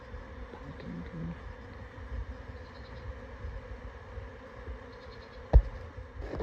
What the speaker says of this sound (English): until I get rid of all these bees. They're everywhere.